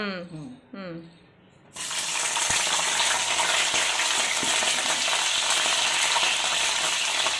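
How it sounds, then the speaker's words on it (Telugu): Brinjals drop into hot oil in a pan and a loud, even sizzle takes over and continues steadily; a voice is heard briefly just before the frying starts. "వంకాయలు ఆయిల్ లో వేయించుకోవాలి కదా"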